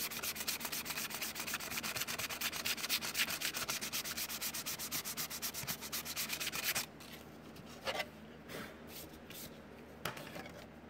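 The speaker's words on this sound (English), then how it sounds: "Sand both sides" Sandpaper rubs back and forth across a styrene sheet in quick, even strokes, a close, dry rasping that runs continuously and then breaks into a few short, separate scrapes with pauses between them.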